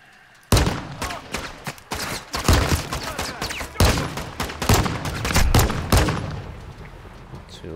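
Gunfire in the Modern Warfare 2 campaign, with loud, close bursts of rapid shots and sharp single cracks that start abruptly and keep going through the whole stretch.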